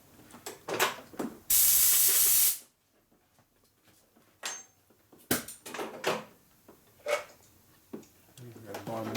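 A burst of compressed air hisses from an air nozzle on a bench where a 1977-79 Harley Shovelhead four-speed transmission is being rebuilt, loud and lasting about a second, amid clinking parts and people talking.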